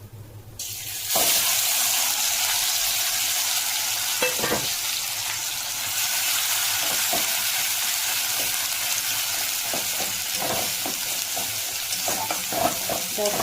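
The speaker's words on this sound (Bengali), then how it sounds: "এবারে আমি এটা ওই যে ভাজা মশলাটা দিয়ে দেবো" Fried spice paste goes into a hot pan and sizzles loudly and steadily, with repeated spatula scrapes and clatters as it is stirred. No one speaks.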